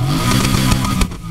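A loud car engine in Need for Speed Heat revs hard for about a second, a buzzy mechanical roar that drops off abruptly near the end.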